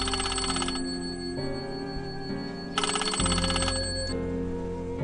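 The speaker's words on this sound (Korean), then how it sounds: "전화벨 소리가 엄청나게 크게 울렸다" A telephone rings loudly in a late-night horror radio story, a steady electronic ringtone repeating in bursts, close and alone without talk.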